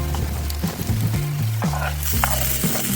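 Sweet paprika and pepper fry in a pan for a Hungarian-style bograch stew, giving a continuous close sizzle with stirring scrapes and clinks over a low hum.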